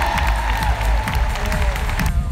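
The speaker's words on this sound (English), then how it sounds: "Let's give her a hand." An audience at a live stage event in Orlando applauds a demonstrator, a loud, dense burst of clapping with some cheering that fills the whole moment.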